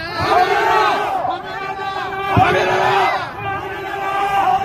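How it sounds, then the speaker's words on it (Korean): A protest crowd in front of Jongno Police Station loudly chants slogans in unison. Strong rhythmic shouted phrases repeat, swelling and falling in waves over a few seconds, close and forceful. "다시 한번 구호 크게 3번 외치고 마무리하도록 하겠습니다"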